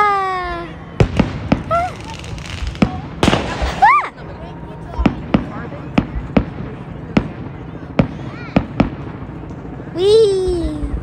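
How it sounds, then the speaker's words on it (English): Firecrackers and fireworks go off during Victoria Day at Ashbridges Bay in Toronto, with a string of sharp, loud pops spaced about a second apart plus whistling rising shells, while a voice talks over them. "Shooting firecrackers."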